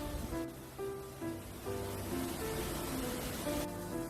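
Clear mountain valley stream water flows through the Songchu valley in Yangju, Gyeonggi Province, within Bukhansan National Park. It makes a steady, close, full rushing wash with no break, and soft music plays faintly underneath.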